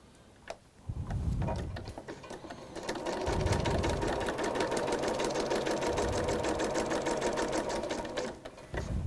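Sewing machine stitching fabric pieces together, running steadily and loudly with a fast mechanical chatter from about a second in through almost to the end, pausing briefly near the start.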